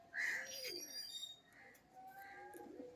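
A pigeon coos softly in a home loft among other pigeons, a few faint low murmuring calls over quiet background with some brief higher chirps.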